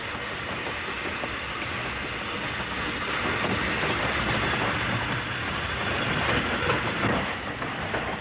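A train runs steadily past with continuous rail rumble and clickety-clack of wheels, loud and close, with a faint rise in intensity midway and no voices.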